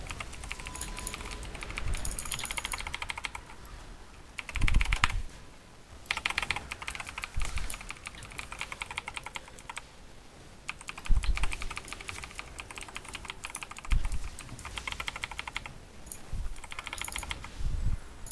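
Rapid computer keyboard clicking during World of Warcraft dungeon gameplay, a steady stream of close, busy keystrokes with heavier bursts of key presses every few seconds.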